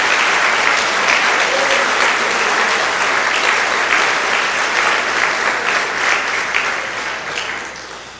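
A church congregation breaks into loud, sustained applause, a thick roar of many hands filling the room and slowly tapering near the close.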